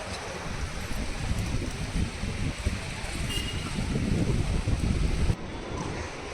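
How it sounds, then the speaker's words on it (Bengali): Strong wind roars across the mic at the seashore at Digha beach, a constant blustery rush with surf noise beneath, easing slightly near the end. "প্রচণ্ড হাওয়া"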